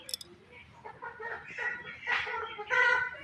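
Chickens cluck and squawk close by in a series of irregular calls, one louder burst near the end.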